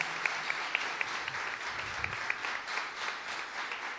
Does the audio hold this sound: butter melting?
no